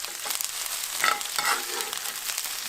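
Meat searing in hot oil for a Mexican-style pot roast, a dense, loud, continuous crackling sizzle heard close up, with no voices.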